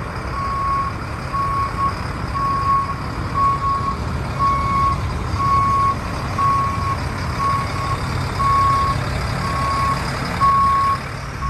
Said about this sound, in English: Trying to get that big truck out of here.